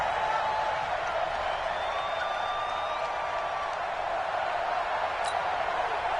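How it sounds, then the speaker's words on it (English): Steady roar of a football crowd inside an indoor dome stadium during a third-and-goal play, a dense continuous wash of cheering and noise at constant loudness with no clear individual voices. "The crowd here in the Dome making things difficult."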